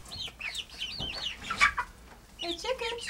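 Chickens clucking and calling nearby in short, scattered bursts, fairly faint, with a few other bird sounds and a voice in the background.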